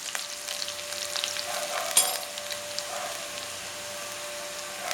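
Dried red chillies, ginger and garlic frying in hot oil for a mutton uppu curry, with a soft, steady sizzle and a few light stirring clicks, fairly quiet and free of talk.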